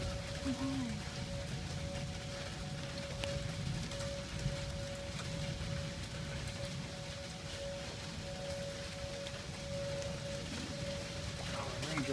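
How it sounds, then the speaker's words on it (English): Rain falls steadily on a surface during a Fourth of July storm with tornado weather, a continuous moderate patter through the whole stretch, with a faint steady tone and occasional voices in the background. "Raindrop hit right on my neck."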